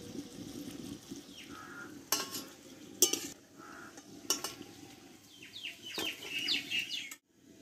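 Potato and wheat flour snack pieces frying in oil, a soft sizzle under intermittent utensil knocks and clatter, with chickens clucking faintly in the background and a sudden stop near the end.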